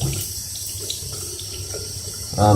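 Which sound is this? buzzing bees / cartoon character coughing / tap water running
tap water running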